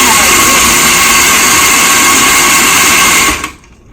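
A loud blender runs steadily, whirling ice for a homemade Orange Julius, a dense continuous roar that cuts off abruptly near the end.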